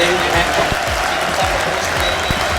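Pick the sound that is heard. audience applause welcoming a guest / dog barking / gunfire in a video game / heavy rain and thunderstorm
audience applause welcoming a guest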